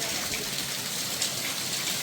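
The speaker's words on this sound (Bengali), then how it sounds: "দেখুন কি বৃষ্টি হচ্ছে বৃন্দাবন" Heavy rain pours over a waterlogged street in Vrindavan, a dense and steady roar that stays constant and close throughout.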